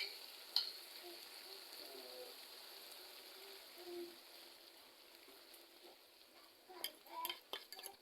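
Three beaten eggs frying in a pan for a pea and egg dish, a soft steady sizzle with occasional light clinks, faint and continuous with no talking.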